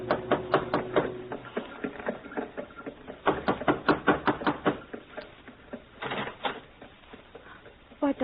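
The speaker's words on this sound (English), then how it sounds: "and knocked on a door" Knocks on a door come in quick clustered raps, several short bursts separated by pauses, fairly close and crisp against a quiet background.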